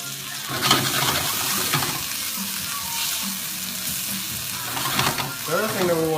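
Garlic and asparagus sauté in a hot pan after the heat is cut, a steady close sizzle with occasional stirring clatter and brief swells, no talk over it.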